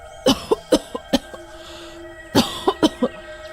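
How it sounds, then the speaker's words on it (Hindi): Several harsh coughs in a quick cluster, a pause, then another burst of hacking coughs, close and fairly loud. "खांसी ज्यादा ही दम खींच रही है"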